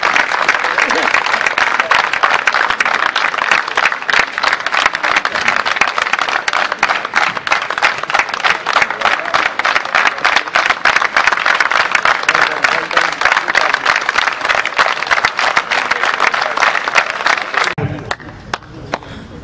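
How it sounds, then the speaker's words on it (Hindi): A crowd gives a standing ovation at a farewell ceremony for a prisons official in Punjab, loud dense clapping sustained for about eighteen seconds before abruptly dying away. "भरपूर तालियां खड़े होकर"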